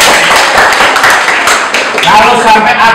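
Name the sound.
audience applause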